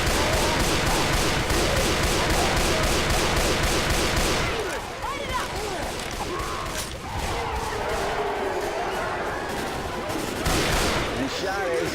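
Automatic gunfire rattles in Left 4 Dead 2 survival mode on the Atrium bridge, a dense rapid burst of shots for several seconds that thins into scattered shots and game noise, with player voices mixed in.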